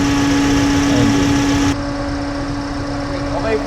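A car engine idles with an abnormal noise from the engine bay while poor acceleration is being diagnosed. It gives a steady, close hum with a constant tonal whine that drops in level partway through.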